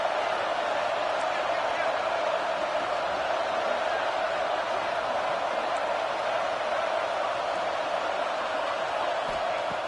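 A steady, dense roar of a large stadium crowd in an American football video game, constant and even throughout, with no distinct voices standing out.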